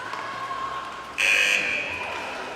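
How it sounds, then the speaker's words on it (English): Shift buzzer in an under-16 women's ice hockey game between Whitley Bay and Sheffield Shadows, one loud sustained electronic blast that cuts in sharply over the rink's background noise and holds for a few seconds. "the breakout just beaten by the buzzer"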